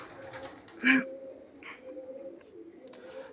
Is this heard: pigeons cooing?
yes